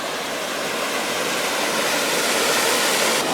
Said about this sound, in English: you can see there's a pretty awesome waterfall right there